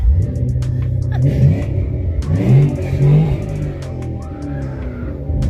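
A Mustang's engine rumbles loudly nearby, revving up in a few rising surges over a steady low idle, with a faint voice briefly present.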